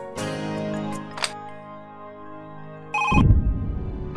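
A telephone rings in an office setting, a loud close electronic ringtone lasting about three seconds, then cut off by a burst of clattering noise.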